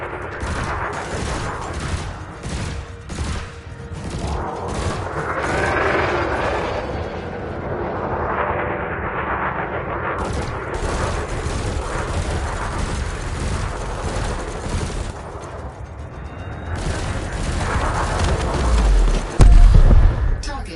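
Rapid multi-cannon fire aimed at a drone during ship combat training in Elite Dangerous, a sustained crackling, rattling stream of shots over a low engine hum, building to heavier thuds near the end.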